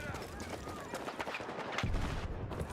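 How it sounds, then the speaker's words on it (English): Mortar fire and gunfire in a Battlefield 6 match, a continuous busy clatter of shots and distant booms with a heavier impact near the end, mixed under game noise with some voice present. "Somebody actually is mortaring."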